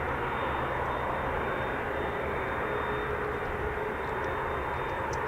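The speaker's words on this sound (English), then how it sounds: "Sounds like we've got another KC-135." Boeing KC-135 tanker aircraft engines roar steadily at RAF base, a loud, continuous broadband jet rumble holding level throughout with no voices.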